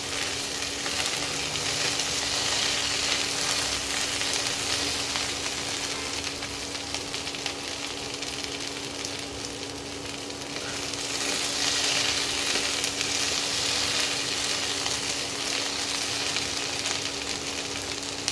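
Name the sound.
chopped okra frying in a pan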